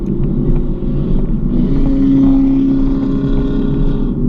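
A car accelerating out of a corner on a race track, a loud continuous engine drone heard from inside the cabin, with a rising tone midway and rumbling wind noise.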